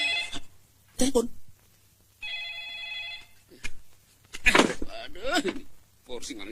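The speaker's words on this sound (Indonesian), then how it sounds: "Itu juga telepon berderang-derung" A telephone bell rings once in a short electronic trill indoors in a 1993 Indonesian comedy film, set between loud bursts of people talking.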